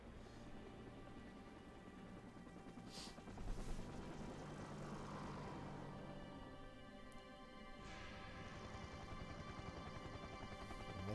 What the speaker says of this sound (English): Chopper's coming in!